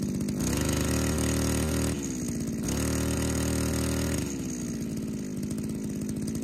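Engine-powered brush cutter for mowing grass, its motor running loud and close while the blade spins, the revs rising and falling in surges, with no speech.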